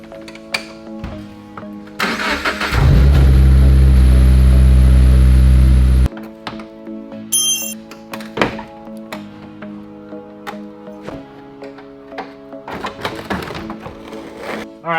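Car front bumper being unbolted and pulled off: close knocks and taps, then a loud grinding burst of several seconds, followed by scattered thunks and clatters.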